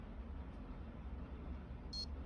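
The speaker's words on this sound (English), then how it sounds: "and it will beep, and the green light starts flashing, letting you know program 4 is now running" A Centropix Kloud Mat gives a single short, high electronic beep near the end, standing out over a steady low background hum.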